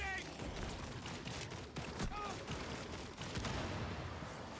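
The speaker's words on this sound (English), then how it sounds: "Throwing impact grenade." A grenade blast and rapid gunfire fill a Rainbow Six Extraction firefight in New York, dense and loud throughout with repeated sharp cracks, with faint speech beneath.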